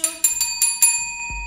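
A bright notification bell chimes four times in quick succession, loud and alone, with a short low thump at the end.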